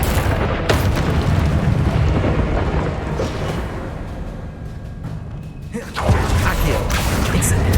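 Confringo blasting spell in the Hogwarts Legacy video game, heard as a heavy booming blast with deep rumbling body, a softer decaying stretch, then a second loud impact near the end.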